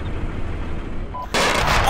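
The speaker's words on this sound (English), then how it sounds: "we pull up some sort of auto cannon shooting at the 148" Auto cannon fire in the military shooter Arma 2, a dense burst of heavy gunfire that jumps in suddenly and loudly near the end after a rumbling battlefield background.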